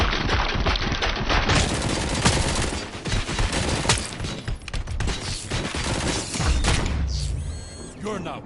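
Sustained volleys of gunfire rattle through a firefight in the video game RoboCop: Rogue City, dense and loud for most of the stretch, with bursts overlapping and a brief lull near the end before shooting resumes; voices mix in underneath.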